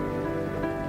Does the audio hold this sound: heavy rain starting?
yes